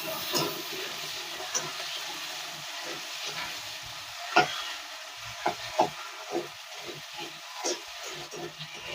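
A cut potato fries in oil in a pan with a soft, fizzing sizzle. Occasional spatula knocks and stirring taps are scattered throughout, close and moderately quiet, with no voices.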